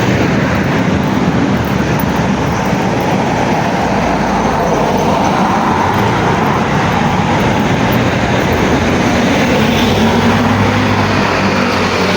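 Steady, loud road traffic rumble on a Baguio street on a Sunday morning, a continuous wash of vehicle noise with no clear individual pass-bys and no talking.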